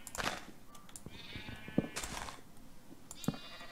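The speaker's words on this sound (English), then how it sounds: "Man, I got a lot of sheep. They are noisy." Several sheep bleat in a Minecraft farm, a few separate calls spread across a few seconds, fairly close and clear with no talk over them.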